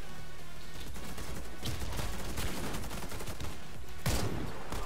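Gunfire in the online shooter Warface, with bursts of rapid shots and a sharp louder blast near the end, heard fairly quietly over continuous game background noise.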